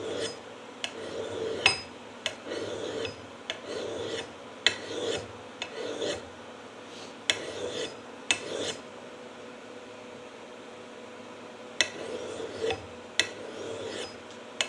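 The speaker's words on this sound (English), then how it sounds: "start filing again" A metal file rasping along an axe edge in repeated strokes, a steady rhythm of short scraping passes with a brief pause midway, close and fairly quiet, with no talking.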